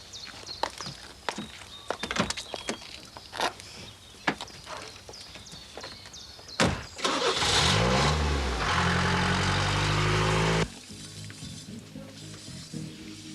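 A car starts and pulls away after scattered footsteps and door clunks, the engine catching with a rising rev, running loud and close for a few seconds before cutting off abruptly.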